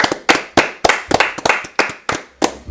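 A small group claps at the close of a sports talk show, about ten distinct sharp hand claps spaced unevenly across a few seconds, close and moderately loud with no talking.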